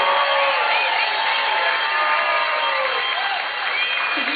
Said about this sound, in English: Please give them a resounding warm applause.